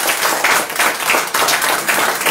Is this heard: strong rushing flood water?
no